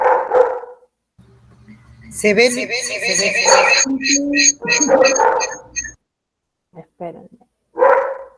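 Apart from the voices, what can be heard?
pet dog barking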